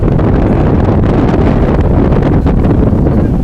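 Strong wind buffets the microphone in a constant, loud roar with no pauses, a low rumbling rush throughout, on an open stretch of a rowing race course.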